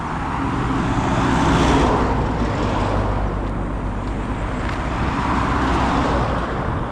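Road traffic on a roadside in Kenya, a continuous loud rumble of passing vehicles with rising and fading engine noise.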